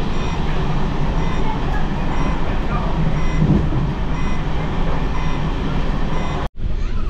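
A Kanchanjungha Express train (13173 Sealdah–Sabroom) with new LHB coaches gains speed, its steady loud rolling rumble and rail clatter continuing close by before a brief cut near the end.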